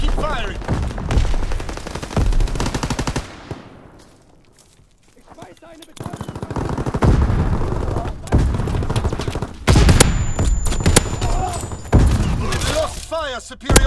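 Dense gunfire from a Call of Duty WWII team deathmatch on the Shipment 1944 map: rapid bursts and single shots pile up loudly, thin out into a short lull, then return in heavy overlapping volleys. Game voice callouts are mixed in.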